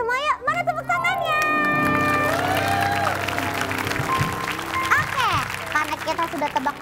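Audience at an Indonesian Independence Day children's competition show clapping along under a held musical tone and voices, with children's chatter mixed in.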